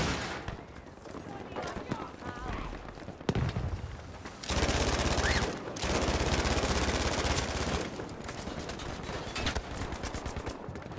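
A Vickers machine gun fires from the hip in Battlefield 5 in loud, sustained automatic bursts, some cut off abruptly, with someone talking between and over the shooting.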